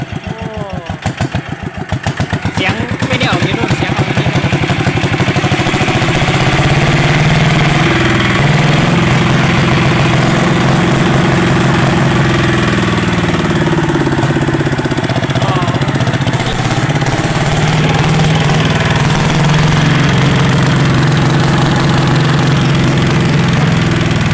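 A motorcycle with a custom exhaust starts with sputtering pops, then settles into a loud, steady, throaty idle close by for the rest of the time.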